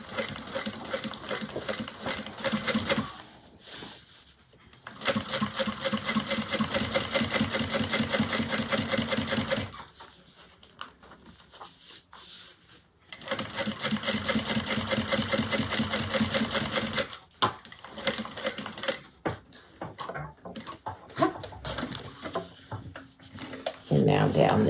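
A sewing machine stitches across the pocket of a Brunella bag in three long, loud runs of rapid, even needle strokes, with pauses between them and a person talking quietly in the gaps.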